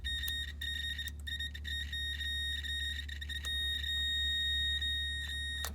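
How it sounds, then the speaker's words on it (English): A multimeter beeps in quick, irregular chirps while checking continuity across the ignition points of a Hobart APU, sounding over a steady low engine-room hum. "you can hear the multimeter now"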